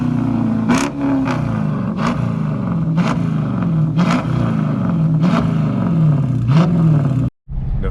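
Dodge Challenger R/T with the muffler and resonator deleted, revved hard about eight times in a regular rhythm, each loud, close roar rising and falling before a brief cutoff near the end.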